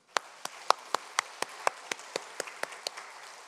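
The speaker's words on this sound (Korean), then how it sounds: "우리 박수로." A church congregation at a Sunday worship service claps together in a steady, even rhythm, about fourteen crisp claps in unison over a quiet room, with no one speaking.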